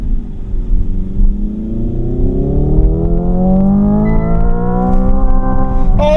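A Hyundai IONIQ 5 N electric car plays a loud simulated engine note that climbs steadily toward redline, a rising multi-tone whine over a deep rumble, then stutters at the rev limiter near the end.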